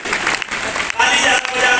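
A large crowd at a DXN product program in Banshi Bhawan, Allahabad, applauds in a dense, continuous wash of clapping that stays loud for the whole moment.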